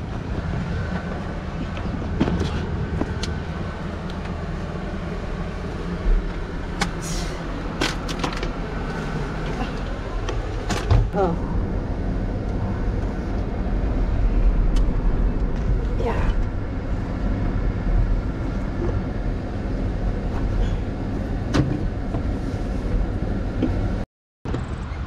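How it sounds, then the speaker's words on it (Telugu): A lorry's engine runs with a low, steady rumble that swells and fades as the truck draws near, heard outdoors under wind buffeting the microphone, with people talking over it throughout. "సో ఫైనలీ లారీ వచ్చింది"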